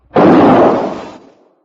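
A single gunshot sound effect in an old-time Western radio drama, a sharp loud burst that rings out and decays over about a second, with no voices over it.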